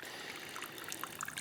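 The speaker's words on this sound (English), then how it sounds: "all the gray water comes in over here" Grey water trickles steadily into a ground drain of a simple outdoor grey water system, a continuous close splashing dribble with small bright droplet spatters, alone and unbroken.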